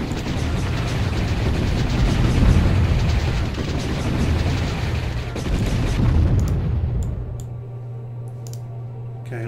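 Friendly-fire explosions and gunfire in the strategy game Warzone 2100, a dense rumbling barrage of blasts and shots that thins out near the end, leaving scattered sharp clicks over a low hum.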